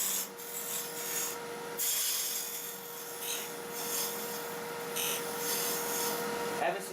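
A wood lathe turns a dovetail tenon on a goblet blank, with a tool scraping and hissing against spinning wood in uneven close strokes over a steady motor hum, while a voice talks at times.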